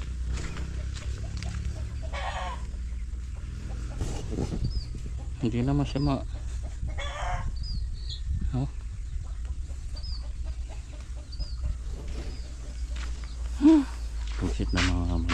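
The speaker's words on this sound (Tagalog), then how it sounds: "Ayan yung bagong bili na" Backyard chickens at a bahay kubo (nipa hut) home, hens with a newly bought rooster, cluck and call intermittently near and far while someone talks throughout.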